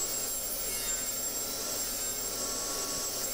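A saw cutting wood lengthwise to a 40 cm width for a wooden garden tool cabinet, giving a steady, continuous high-pitched whine that stays close and even without pauses.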